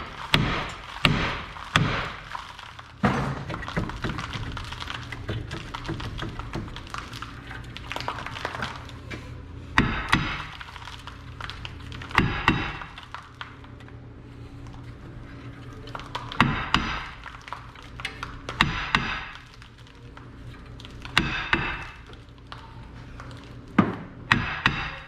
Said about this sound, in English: the rotor we need to knock with the hammer